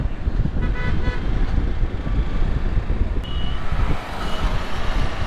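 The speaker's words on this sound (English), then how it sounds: "There's a lot of traffic today" Busy road traffic rumbles close by with wind noise, while several car horns toot in short bursts and a brief high beep cuts through midway.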